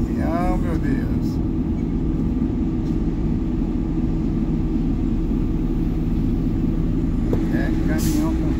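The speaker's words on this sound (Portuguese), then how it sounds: "Ave Maria, que é caminhão, meu Deus." A heavy truck rolls past on a road in Alagoas, Brazil, its loud, low engine rumble and road roar filling the whole stretch and staying close throughout.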